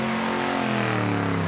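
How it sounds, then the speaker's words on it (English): Burnout car at a Summernats burnout elimination, its engine revving loudly in a continuous high-pitched roar with a slight pitch rise, close and alone without talk. "He does not mind giving it a rev either."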